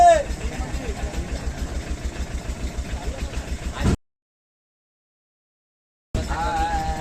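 A motorbike engine idles with a steady, rhythmic putter. Voices talk over it before the sound cuts out, then it returns.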